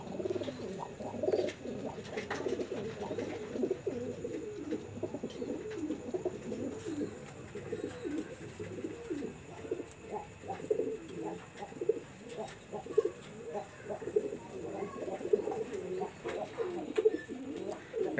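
Pigeons coo continuously in a loft, soft overlapping throaty calls from several birds at close range, with faint rustling and occasional chirps in the background.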